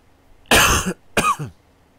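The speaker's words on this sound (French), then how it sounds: "Ah, je suis vraiment désolé pour la toux." Two harsh, close coughs in quick succession, the second shorter and rougher, with near silence around them.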